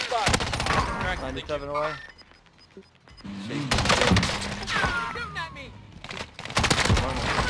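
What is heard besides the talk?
gunfire in a shooter video game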